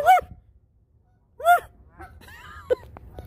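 Geese honk loudly near an abandoned restaurant lot, two strong calls about a second and a half apart, then softer scattered honks and rustling over quiet background.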